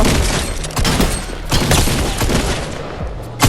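Video game gunfire, a rapid clatter of shots in short bursts with a few heavier thumps, loud and close throughout.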